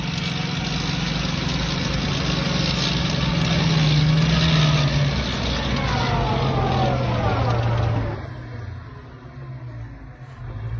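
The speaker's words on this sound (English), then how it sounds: "That engine is sick sounding." A loud, heavy diesel engine of a Bradley armored vehicle roars steadily and close, its pitch wavering before dropping off toward the end as it winds down.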